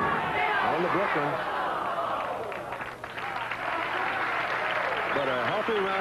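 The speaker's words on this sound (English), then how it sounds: "But a healthy round of applause for a great start by Pete Weber." Crowd applause and murmur rise at a 1982 professional bowling tournament in Hartford, a steady wash of clapping running beneath continuous television commentary.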